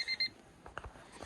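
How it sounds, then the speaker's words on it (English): Door-open warning chime in a 1988–91 Honda Civic: two short, bright electronic beeps in quick succession, close and clear, followed by faint background rustle. "Close the door. Then we don't hear that beep beep."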